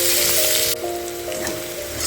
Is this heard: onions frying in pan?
yes